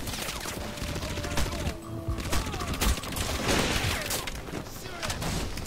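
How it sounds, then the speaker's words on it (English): Rapid gunfire from a boat-mounted minigun aimed at the player in Crysis, crackling bursts and impacts mixed with booms, loud and near, with someone talking over the shooting. "Quit shooting at me, you damn boat! You damn sniper boat! You're supposed to be a minigun, not a freaking sniper rifle!"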